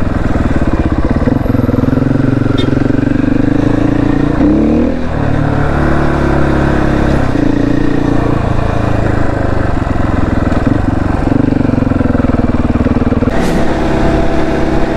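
A motorcycle engine runs continuously, loud and close, on a ride out to the sea, its steady drone rising and falling slightly with throttle. No other sounds are prominent.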